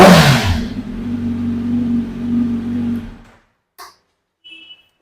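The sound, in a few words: superbike with loud aftermarket exhaust revving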